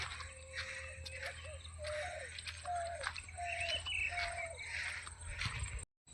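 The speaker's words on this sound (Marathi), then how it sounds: "हा बघा मित्रांनो हा बुलबुल पक्षी एकदम मस्त त्याच्यामध्ये बसला आहे" A bulbul calls in a farm field, giving a steady series of short, whistled notes at a moderate distance over a constant bed of insect and cricket buzzing.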